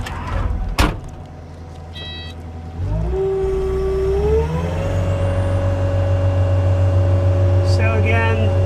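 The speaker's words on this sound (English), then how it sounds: "I'm going to start this thing up. We're going to run it around" A 2022 Kubota SSV65 cab skid loader cranks and fires up, then holds a steady loud diesel run with rising whine, after a sharp clunk and a few beeps near the start.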